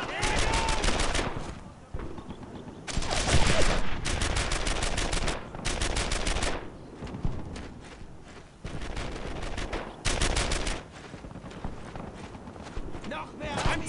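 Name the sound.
gunfire in the video game Brothers in Arms: Earned in Blood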